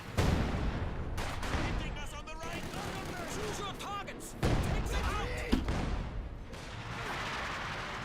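Su-76 artillery barrage in Company of Heroes 2: repeated thudding shell impacts and gunfire bursts in a busy battle mix, running under a commentator's steady talk throughout.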